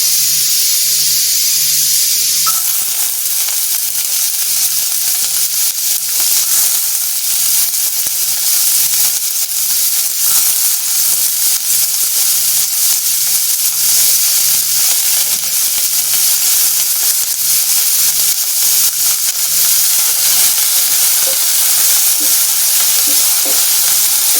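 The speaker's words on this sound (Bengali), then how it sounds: "ওই পেঁয়াজটা আমি এর তেলের মধ্যে দিয়ে দিচ্ছি।" Small spring onions with their green leaves sizzle loudly in hot oil, a dense steady frying hiss that flares up after a brief quieter start and runs unbroken and close throughout, with faint stirring scrapes.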